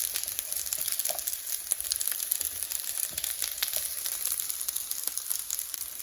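Zucchini fries in a pan with a steady, bright sizzle and crackle that runs continuously, close and fairly loud, with scattered small pops throughout.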